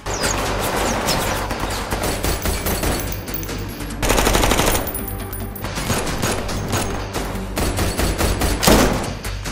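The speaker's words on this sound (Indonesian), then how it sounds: "Baku tembak terjadi." Continuous automatic gunfire crackles through a film shootout, dense bursts with heavy thuds running the whole time, loud and close, a sharper volley near the end.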